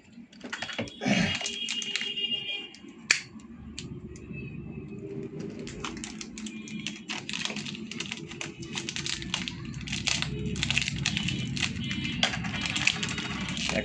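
HP ink cartridge packaging for an HP Smart 580 printer is cut open by hand, producing soft scattered clicks, snips and plastic rustles close by in an otherwise quiet room.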